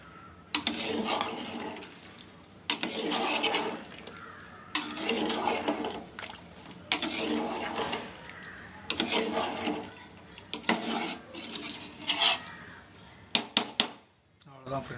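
Chicken dum biryani gets mixed in a pot in bursts of scraping, clattering strokes, about seven rough passes with brief pauses between them. A few sharp metallic knocks come near the end.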